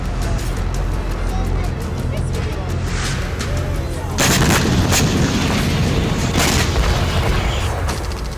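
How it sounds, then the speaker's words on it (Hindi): Bombs exploding in airstrikes on Gaza: loud, continuous booming and rumbling with sharp blasts, a heavier burst arriving midway and later cracks, under a dense wash of noise and faint voices. "बम बरसाए जा रहे हैं।"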